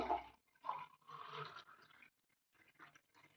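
Freshly made juice poured straight from a container without straining, giving a splashing liquid stream in bursts with short pauses, fairly close and moderately loud, with no talking.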